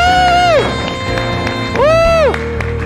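An indoor church audience cheers and claps in a steady broadband roar, while a loud voice calls out in long rising and falling shouts over it.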